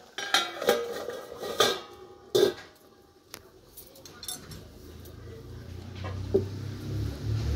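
A metal lid goes onto a pot of fish curry with a few sharp clanks and scrapes of cookware near the start, followed by quieter kitchen clatter and a soft low rumble in the background.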